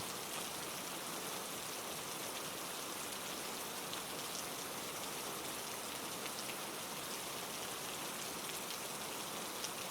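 Steady, even rainfall with dense pattering drops on surfaces, a continuous hiss without pauses or voices, fairly soft and uniform from start to finish.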